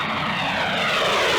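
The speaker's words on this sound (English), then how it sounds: "Whenever the fields were dry enough, our planes took off to tackle the Luftwaffe." Military propeller airplanes take off from a dry airfield during the World War II North Africa campaign. Their engines give a steady, loud, close roar that does not let up.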